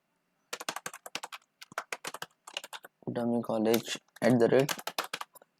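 Rapid keystrokes on a computer keyboard while entering dummy college registration details, clicking in short bursts with brief pauses, mixed with a person talking in between.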